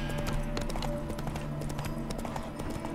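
Roach, Geralt's horse in The Witcher 3: Wild Hunt DLC, clip-clops steadily with hooves beating a brisk, loud rhythm over dense in-game music and ambience, with no voices.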